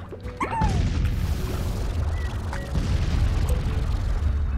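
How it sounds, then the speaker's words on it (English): In the video game Slime Rancher, a burst of booming explosions erupts, followed by continuous loud rumbling, crashing and thudding debris with scattered whistling tones. "Oh look, everything's exploding."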